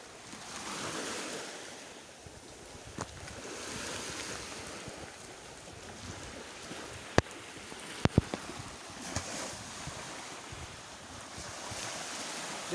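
Beach waves roll and wash at Barelang in Batam with a continuous surf roar, mixed with gusting wind buffeting the microphone and a few sharp clicks near the middle.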